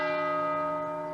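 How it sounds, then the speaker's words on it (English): A church bell tolls once during a memorial reading of mass shooting victims' names in Texas, its sustained ringing tone decaying slowly across the whole moment, with no speech over it. "they ring a bell after each name"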